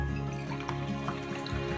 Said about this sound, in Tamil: 6 டம்ளர் தண்ணி ஊற்றிக்கலாம்.